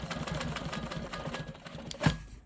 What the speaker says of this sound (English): I need to finish stitching in the ditch right here.